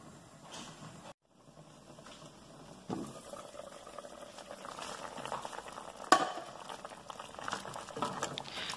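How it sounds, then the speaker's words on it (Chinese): Braised lotus root and fried bean curd sticks simmer in a covered pot, giving a soft continuous bubbling and gentle liquid patter that slowly grows louder, with a short clink partway through. "冚盖用大火滚起，滚起咗之后转中小火煮30分钟。"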